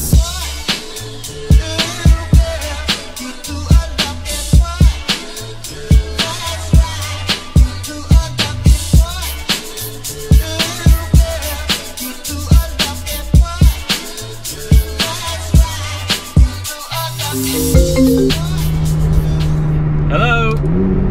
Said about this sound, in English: There is nothing like a supercar in a tunnel.